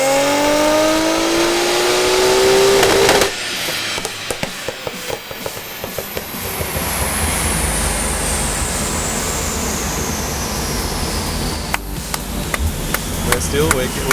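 Nissan GT-R engine on a dynamometer, revving hard with a rising whine that cuts off sharply into a loud, rumbling roar and clatter, staying close and forceful for the rest of the run.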